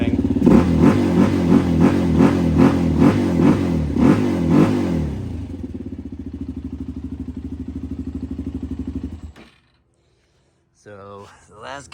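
A Suzuki LTZ 400 ATV engine revs in rhythmic pulses up close, settles into a steady loud idle, then cuts off. A brief voice follows the silence.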